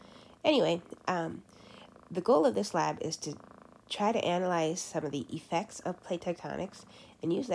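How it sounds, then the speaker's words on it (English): A kitten purrs steadily in the background, a low continuous rumble running beneath a man's nearly constant speech. "I can't seem to get my kitten to stop purring."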